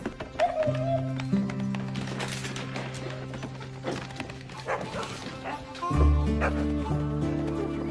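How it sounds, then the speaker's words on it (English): Dogs bark repeatedly amid a noisy, cluttered scene in a film, with other sounds layered over them; the barks are fairly close and moderately loud. "what are you barking at?"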